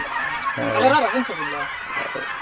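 Mani ducks on a farm, a few nasal quacking calls close by for about a second, with voices talking faintly in the background.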